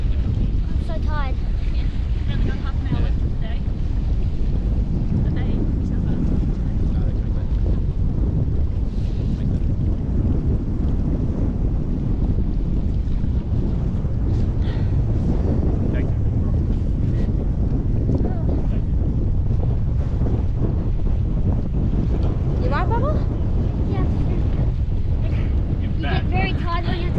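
Strong wind of around 35 knots batters a sailboat at sea, a loud, continuous roar of gusts buffeting the microphone over rushing water, with faint voices now and then beneath the noise.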